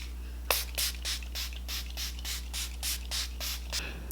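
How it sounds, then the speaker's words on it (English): A rapid series of short hissing bursts of Milani Make It Last setting spray onto a face, about a dozen quick pumps in steady rhythm, close by over a low steady hum. "I'm going to spray my face with the Milani Make It Last setting spray."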